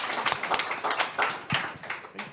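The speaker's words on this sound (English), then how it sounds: "can we please give a huge round of applause to these incredible leaders in the MusicTech scene?" An audience at a MusicTech industry panel in New Zealand breaks into applause: dense, steady clapping from many hands, fairly close, lasting the whole moment with no talk over it.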